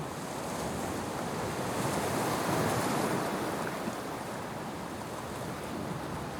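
Ocean surf rolling onto a Congo beach, a steady continuous wash of waves with some wind noise, no voices.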